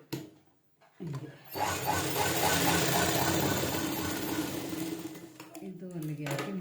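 A sewing machine runs steadily while stitching the lining of a round-type blouse, a continuous close mechanical whir lasting several seconds after a short pause, with someone speaking over it.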